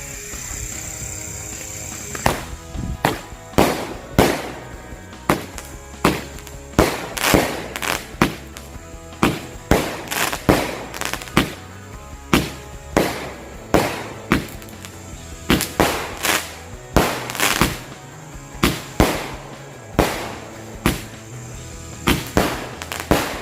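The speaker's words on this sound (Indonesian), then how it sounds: "nyalain dua buah mercon Roman Candle sekaligus. Ini yang 8 shoot ya" Two Roman candle fireworks of eight shots each fire together outdoors, with loud, sharp pops and whooshing bursts repeating in a quick, irregular rhythm over roughly twenty seconds.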